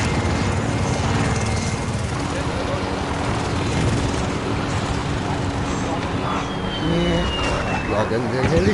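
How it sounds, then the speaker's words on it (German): An enemy helicopter thrums steadily overhead in Call of Duty: Modern Warfare, its rotor noise layered with game sounds while someone talks over it. "Feindliche Heli-Unterstützung in der Luft."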